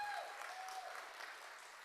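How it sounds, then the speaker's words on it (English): Audience applause at the ANC Ideas Summit 2025, a sustained wash of clapping from a conference crowd, faint and even throughout the short stretch, with a whistle-like tone at the start. "can we give a round of applause, please?"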